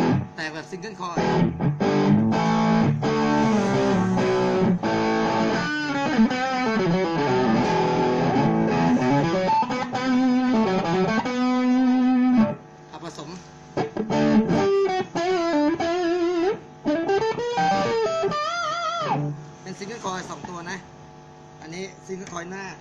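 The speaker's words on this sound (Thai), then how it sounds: "แตกแบบซิงเกิลคอย" A distorted Kramer electric guitar on a single-coil pickup plays a run of sustained notes and bends, gritty and buzzing, with brief pauses between phrases and some background hum.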